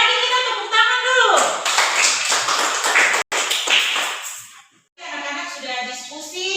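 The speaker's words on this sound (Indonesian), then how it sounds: "Sekali lagi kita tepuk tangan dulu." Fourth-grade pupils in a classroom clapping together in bursts of sharp, close taps, with a teacher and children speaking between and over the claps.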